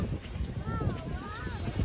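Wind buffets and rumbles against the microphone at a beach while a person talks, the gusts coming in uneven low thumps.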